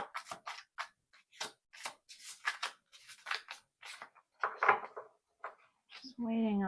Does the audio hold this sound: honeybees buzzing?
no